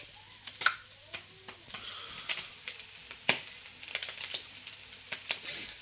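Smoked lardons fry in a pan with a quiet sizzle, broken by sharp ticks and scrapes as they are stirred at close range.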